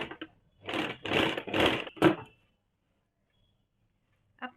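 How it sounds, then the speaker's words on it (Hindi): A sewing machine stitches piping onto a kaftan nightie in four quick consecutive runs of whirring, then falls silent, with a brief restart at the very end. "इसी प्रकार से पूरे पाइपिंग में हम लोग मशीन चला लेंगे।"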